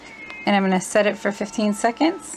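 A house cat meows under someone speaking close up, the short cries overlapping her voice indoors during a craft project with a heat press.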